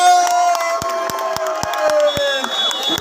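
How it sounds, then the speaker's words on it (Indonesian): Crowd cheering and clapping greets a volleyball team at a local tournament match, loud and continuous with sharp claps and an announcer's voice carrying over it. "Tepuk tangan untuk tim WWS."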